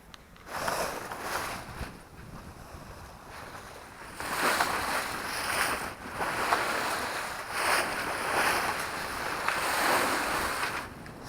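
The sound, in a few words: sailboat motoring through water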